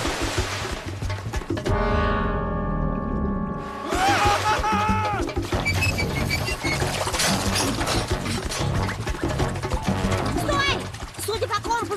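A waterfall roars in an animated film scene, a dense, continuous rush of crashing water that fills the whole stretch, overlaid with music and other effects.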